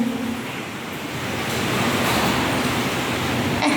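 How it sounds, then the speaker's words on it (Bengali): Heavy rain with small hailstones during a storm, a loud, dense, continuous roar of falling water that swells slightly, with a sharp knock near the end and no speech. "বৃষ্টি হচ্ছে আজকে প্রচুর বৃষ্টি হচ্ছে"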